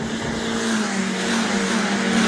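Race cars lapping Knockhill circuit, a steady engine drone with a strong held tone that holds loud and continuous without pause, no voices over it.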